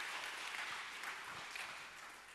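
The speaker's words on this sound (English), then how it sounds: "Let's give him a clap." Applause from an audience after a low brass performance at a festival, heard faintly as a soft, even patter of clapping from a distance that gradually fades out.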